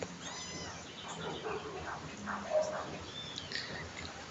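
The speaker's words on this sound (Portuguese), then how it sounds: "São gatos lindos, pretos, tá?" Black cats in a rescue shelter give soft, scattered meows against a quiet room with faint background voices.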